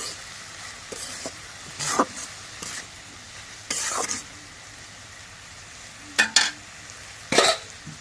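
Potato bhaji frying with cumin paste gets stirred in a pan, a low sizzle broken by intermittent scraping strokes and a few sharper clatters.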